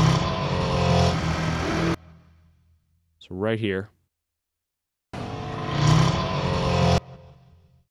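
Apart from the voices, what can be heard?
RC cars passing with Doppler pitch change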